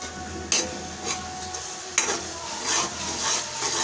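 Masala roasting in a hot pan while being stirred, a soft sizzle broken by several scraping spoon strokes and clicks against the pan, close and without talking.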